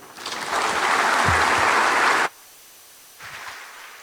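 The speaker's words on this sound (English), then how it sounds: "Another round of applause," A large audience at an annual banking meeting bursts into loud, sustained applause for about two seconds, stops abruptly, then a second, softer burst of clapping starts near the end.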